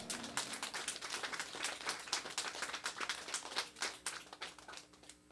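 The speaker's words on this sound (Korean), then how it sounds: "하나님 앞에 영광의 박수 올려드립시다." Church congregation clapping in praise during a sermon, rhythmic hand claps at a fairly faint level, steady and even, with no voice over them.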